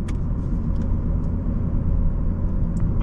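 A car engine running steadily while driving on a winter road, a low, constant rumble with road noise that holds at an even level throughout.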